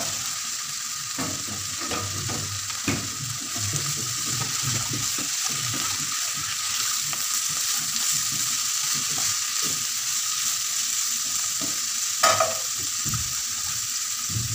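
Onions frying in a pan for a Moroccan meat dish, without any water added, stirred now and then with a spoon: a steady sizzle runs throughout, with scraping and clinking stirs scattered across it and no talk.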